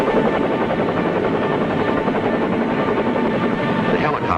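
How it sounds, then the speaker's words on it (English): A Vietnam War-era military helicopter flies over a beach assault force, its loud, continuous rotor thrum steady throughout. "We fly above the beach assault force, for our helicopter landing zone is well inland"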